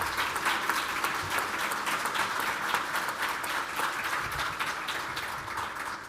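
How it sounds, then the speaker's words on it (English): An audience at a senatorial news conference announcing a secure facility at the Globe Building applauds in steady, even clapping that holds throughout, moderately close and alone without talk, tapering slightly at the end. "Let's give them a round of applause for their welcome."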